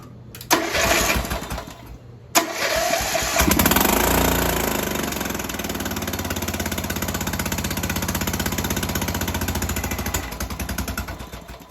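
A homemade mud mower engine is cranked and catches after a couple of short attempts, then settles into a loud, steady, rattling run that carries on to the end with no talking.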